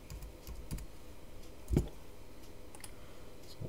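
Computer keyboard typing while credit card details are entered into an online store checkout: sparse, quiet key clicks scattered over a few seconds, with one sharper tap in the middle, and no talking.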